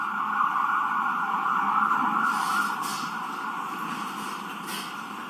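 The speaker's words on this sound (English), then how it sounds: "wait until the sirens pass" Emergency sirens wail steadily past outside a courtroom, a sustained loud tone that gradually fades as the vehicles move away.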